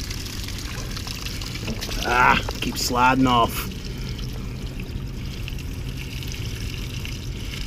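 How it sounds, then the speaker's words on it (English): Water splashes and trickles over the top of an HVAC compressor during an overtime no-cooling service call, a steady low wash under brief nearby talk that swells midway. "Got water going on the top of the compressor."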